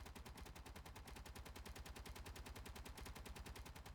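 Rapid, evenly spaced automatic turret gunfire in Space Engineers, a continuous fast rattle of shots at steady loudness, with no talking.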